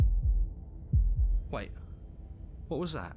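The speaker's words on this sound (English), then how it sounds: "That was the sound of a heartbeat," Heartbeat sound effect from the video game Slay the Princess: several deep, thudding low beats in a slow rhythm, followed by a person speaking over the quiet background.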